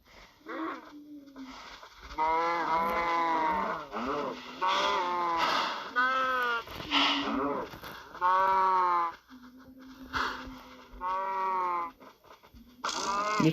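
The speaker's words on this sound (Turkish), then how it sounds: "Aha bu inekler kaçıyorlar." Blocky farm-animal cows in the Minecraft video game give repeated drawn-out, tonal mooing calls, several overlapping in bursts, fairly loud and close with brief pauses between them.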